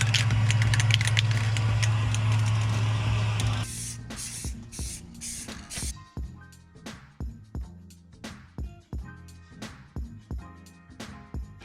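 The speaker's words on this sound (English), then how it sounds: "This stuff was like spraying acetone." An aerosol spray can hisses steadily for a few seconds while painting a sedan's front lip, then gives way to a series of short rhythmic bursts and rattling knocks.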